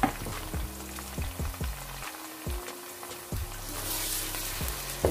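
Tomatoes and green chillies frying in a pan for aloo baingan, a moderate close sizzle with repeated stirring clicks and scrapes and a brief quieter gap partway through.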